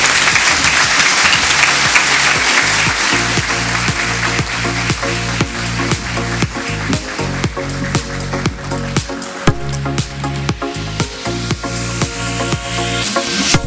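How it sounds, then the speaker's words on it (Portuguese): Loud sustained audience applause at a special session honoring Colégio São José's 120th anniversary, dense clapping throughout with musical tones playing underneath. "peço-lhes uma salva de palmas para o nosso querido Colégio São José"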